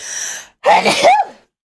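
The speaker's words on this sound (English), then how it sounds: "You show up 20 minutes late and have a frickin' sneezing fit" A person sneezes during a sneezing fit: a short intake of breath, then a loud, close sneeze burst, heard alone.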